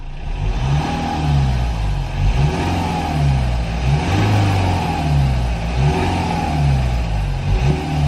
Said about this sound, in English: obviously we can hear the turbo spooling up, but there's a hiss on this side in particular that you can definitely hear